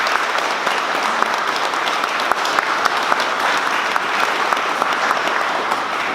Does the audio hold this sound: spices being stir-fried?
no